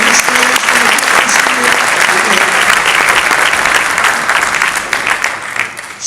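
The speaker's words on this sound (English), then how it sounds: "would you give her a big round of applause?" Loud, dense audience applause fills a high school winter festival hall, steady and sustained throughout without a break.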